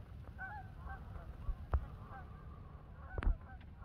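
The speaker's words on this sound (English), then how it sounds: "We got geese around anyway." Wild geese honking over the Great Sacandaga Lake, several short nasal honks scattered across a few seconds, fairly distant and faint over a low outdoor rumble.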